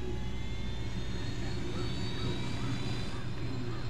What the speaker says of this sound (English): That's why we taking helicopters.